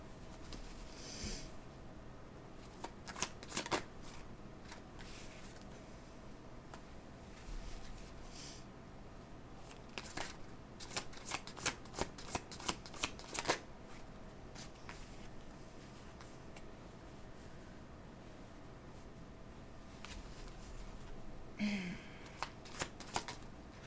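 Tarot cards being shuffled by hand for a reading, soft riffling and papery flicks that come in irregular bursts, some quick rapid runs, close and quiet against a faint room hiss with no talking.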